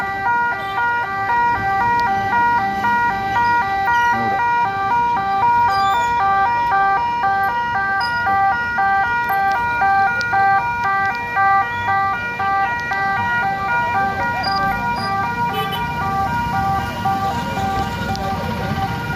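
Ambulance siren at a road accident scene in Thalapady wails in a repeating two-tone pattern, loud and sustained, with traffic rumble growing beneath it toward the end.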